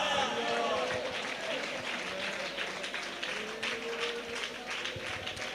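A church congregation clapping their hands together in a dense, continuous patter that runs the whole time, under someone speaking.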